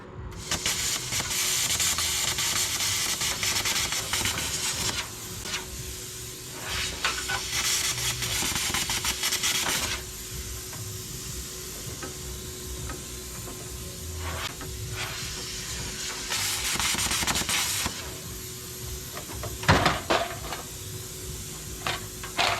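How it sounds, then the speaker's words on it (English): A plasma cutter cuts through the back side of bolts with stripped anchor nuts in a shop, giving bursts of harsh hissing that start and stop several times over a quieter background. "Just hit the back side of these bolts that had stripped out anchor nuts with the plasma cutter"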